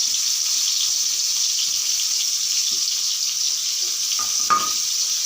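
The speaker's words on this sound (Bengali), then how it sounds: "আমি একটা করে সবগুলো বেগুনই তেলের মধ্যে দিয়ে দিচ্ছি।" Eggplant pieces fry in hot oil with a steady, bright hiss that holds throughout, plus a few faint pops and a brief clatter near the end.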